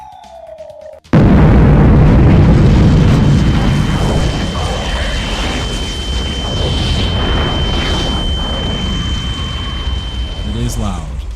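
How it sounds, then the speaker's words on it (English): A nuclear explosion nuking the map in a survival video game: a sudden huge boom after a brief swoosh, followed by a long roaring rumble that slowly fades, with a steady high tone running over it. "we're going to nuke the map yet again."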